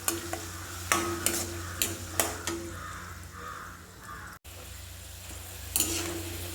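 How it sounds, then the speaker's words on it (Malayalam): Chana dal frying crisp in oil crackles and sizzles while a spoon stirs it, knocking sharply against the pan several times early on, then settling into a softer sizzle before one more knock near the end. "നല്ല ക്രിസ്പി ആയിട്ട് വറുത്ത് കോരി എടുക്കണം"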